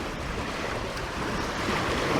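Small waves on Lake Baikal lapping and washing steadily, mixed with gusty wind buffeting the microphone, no voices.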